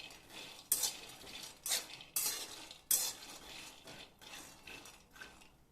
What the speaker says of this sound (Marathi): मीडियम गॅसवरती आपले शेंगदाणे भाजून घ्यायचे आहेत।